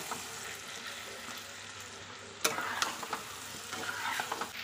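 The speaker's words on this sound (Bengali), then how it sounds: "এবার ভালোভাবে মশলাটাকে কষিয়ে নেব" Ginger-garlic spice paste with a yogurt mixture is stirred and fried in a wok, a soft sizzle that jumps louder midway as the mix is turned, followed by repeated scraping strokes up close.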